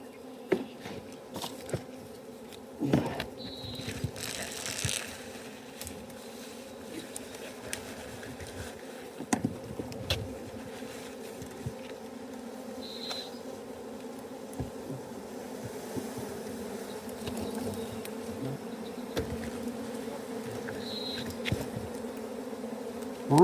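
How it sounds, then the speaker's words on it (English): An angry swarm of wild bees buzzes steadily near a bumped hive, a close, continuous drone with scattered louder passes and bumps, no talk. "I did piss some bees off. Oh, yeah. I bumped their hive."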